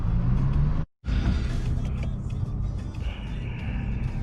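A car with a Powermetric stage 1 tune speeds around a turn, its engine holding a loud, steady rumble from inside the cabin, broken only by one brief dropout.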